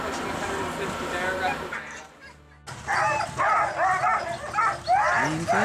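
Sled dogs in Alaska on the Kenai Peninsula barking, yipping and whining close by, a dense overlapping chorus that drops out briefly before resuming with excited yelps, with a person talking underneath.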